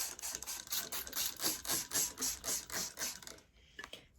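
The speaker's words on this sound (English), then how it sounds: "So now I'm just going to spray it." A spray bottle of water pumps in a quick, even series of about a dozen hissing squirts, each a short sharp burst, before stopping.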